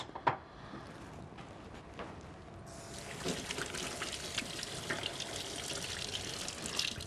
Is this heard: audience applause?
no